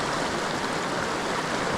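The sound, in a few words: waterfall on a trout stream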